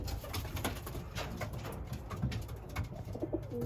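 Racing pigeons cooing in a loft after a race, soft repeated throaty coos with faint background rustling, no voices.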